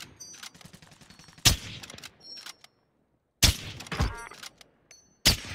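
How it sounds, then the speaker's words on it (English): Tundra sniper rifle shots in the Warzone video game, three sharp, loud cracks spaced about two seconds apart, each with a brief ringing tail, separated by near silence. "You're going to witness the worst sniping ever. With the Tundra."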